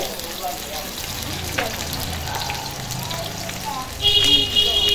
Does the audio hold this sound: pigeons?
no